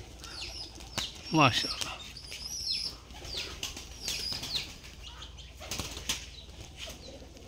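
Giribaj pigeons flapping their wings in a loft, brisk close wingbeat flurries over soft cooing, with someone speaking briefly.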